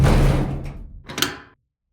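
A door is shut with a heavy thud and decaying rumble, then after a short pause a sharper second clack as it is locked, both close and loud before silence.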